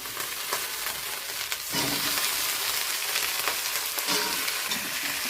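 Brinjal and onion sauté in a pan with turmeric and salt for a gravy, giving a steady close sizzle and crackle with occasional stirring scrapes and a louder burst of frying partway through.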